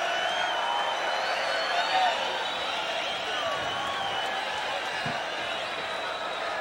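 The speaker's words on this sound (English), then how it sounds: "And the crowd getting into it." UFC 8 arena crowd cheering before the Gary Goodridge versus Jerry Bohlander fight, a broad steady roar filling the hall with scattered shouts and a brief spike of noise, commentary voices underneath.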